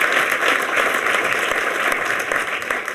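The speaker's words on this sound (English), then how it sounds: "he deserves a round of applause." Audience applause at the opening of a clinic: steady, dense clapping from a sizeable crowd throughout, close and loud with no talk over it.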